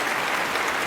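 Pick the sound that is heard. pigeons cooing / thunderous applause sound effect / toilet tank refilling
thunderous applause sound effect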